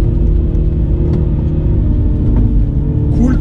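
A 2020 Mini GP car pulls out of a corner under acceleration, its engine giving a close, loud, rumbling drone that holds steady with a slight rise in pitch near the end.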